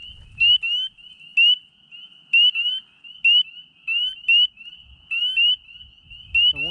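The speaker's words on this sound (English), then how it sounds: "I saw a spring peeper jump over there." Spring peeper frogs give sharp, high, piping peeps in quick pairs and singles against a steady shrill chorus, loud and close, with a faint low rustle at the start and end.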